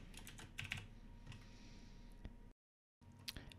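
Typing on a computer keyboard, with quiet, quick key clicks in small clusters over a low background hum and a brief gap of silence near the end.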